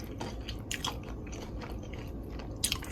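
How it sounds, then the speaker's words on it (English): Crunchy bites into crispy lemon pepper chicken wings, close chewing and crackling at the mouth with a few sharper crunches, fairly quiet and without talk. "Now I'm gonna go ahead and do a taste test"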